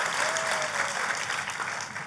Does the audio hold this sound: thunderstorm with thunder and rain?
no